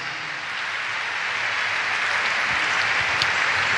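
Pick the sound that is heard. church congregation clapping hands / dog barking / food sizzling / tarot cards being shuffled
church congregation clapping hands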